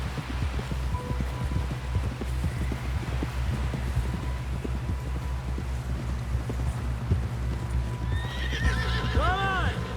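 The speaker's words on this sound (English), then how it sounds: "Someone help John down off this horse." In the video game Red Dead Redemption 2, steady hoofbeats clip-clop at a trot under rain and low rumble, then a horse lets out a loud, wavering neigh near the end.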